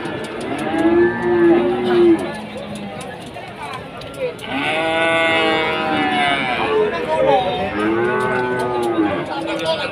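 Cattle moo repeatedly at a cattle market in Wirosari, Grobogan, among rows of feeder bulls including Limousin and Simmental, with several long, loud lowing calls overlapping one another and people talking in the background.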